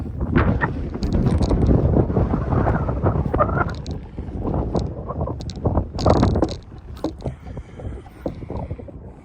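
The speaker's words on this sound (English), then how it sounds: "Man, it is extremely windy out here." Strong outdoor wind buffets a microphone fitted with a small wind guard in a large parking lot in the Shenandoah region, loud irregular low rumbling gusts that rise and fall throughout.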